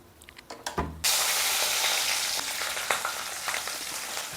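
Coriander, mint and onions drop into hot oil for chicken curry, a few light knocks giving way to a loud, steady sizzle and crackle that carries on alone, close by.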